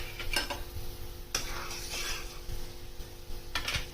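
Ginger and green chili paste stirred into a simmering pabda fish curry gravy in a pan: a soft bubbling sizzle underneath, with three or four brisk spoon scrapes against the pan, close up with no voices.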